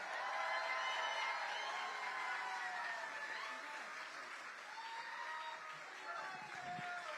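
A large rally crowd in Austin, Texas claps and cheers steadily for a state representative stepping up to speak, a dense, sustained wash of applause and shouting voices lasting several seconds.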